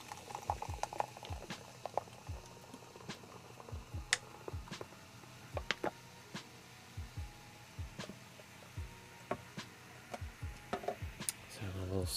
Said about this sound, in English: Let's have a little soda water here.